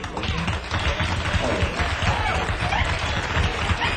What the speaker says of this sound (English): give the guitar player, Mr. Lewis, a big round of applause